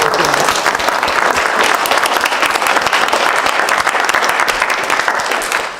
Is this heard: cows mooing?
no